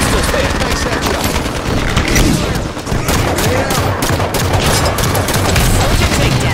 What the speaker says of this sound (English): Under fire from a soldier!